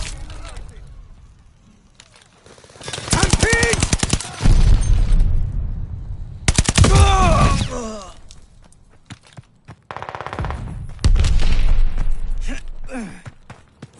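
Explosions and gunfire from a friendly bombing run in a video game, loud bursts of rapid fire and booms coming in several heavy waves, separated by quieter stretches.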